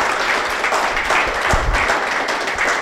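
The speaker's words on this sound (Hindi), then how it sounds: "एक बार जोरदार ताली गुरचरण भाई जी के लिए बजाएं." Sustained applause from an audience at a spiritual talk in Gwalior, a steady dense wash of many hands clapping filling the whole stretch at moderate loudness.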